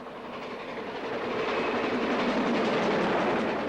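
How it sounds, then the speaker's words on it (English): The GWR Castle-class steam locomotive Pendennis Castle climbs the old Great Western main line through outer London suburbs, a steady rolling rumble with clickety-clack of the train growing louder and nearer. "This is the last run of the famous Pendennis Castle, climbing through the outer London suburbs on the old Great Western Main Line to Birmingham."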